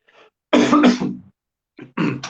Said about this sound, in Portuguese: Só um pigarrozinho, então.